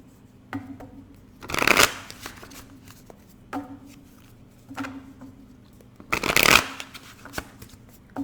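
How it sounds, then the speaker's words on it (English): Tarot cards being shuffled in two loud riffling bursts, with softer taps and card handling in between. "I've been struggling with my shuffle this whole dang video"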